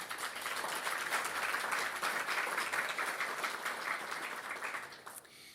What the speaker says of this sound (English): I'd really love it if you could give them a round of applause